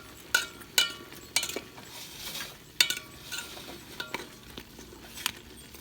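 A spoon scrapes and knocks against a pot while herbs, torn kaffir lime leaves and chicken are stirred, irregular sharp clicks over a soft sizzle, close and fairly quiet.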